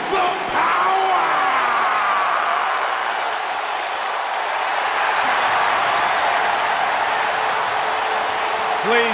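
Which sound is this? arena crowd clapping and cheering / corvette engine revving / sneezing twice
arena crowd clapping and cheering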